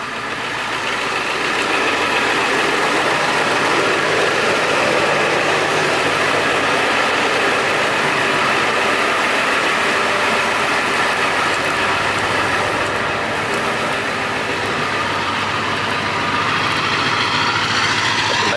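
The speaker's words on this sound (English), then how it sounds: "Both the engine makes a lot of noise and the exhaust in general." A high-mileage Ford F350 dually diesel truck, still fitted with its emissions equipment, idles close by with a loud, steady engine clatter and exhaust rumble that holds evenly throughout, with no talking.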